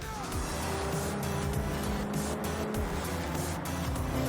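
A quad-rotor Mazda RX-7 race car in Gran Turismo 7 holds a loud, continuous high-revving engine drone throughout, steady and close with faint gear-shift dips.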